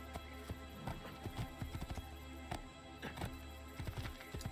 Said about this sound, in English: it's just as easy to get on the horse